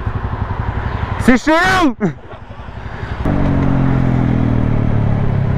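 Motorcycle engine on a test ride, idling steadily under excited voices, then rising to a louder, sustained rumble in the second half as talk fades.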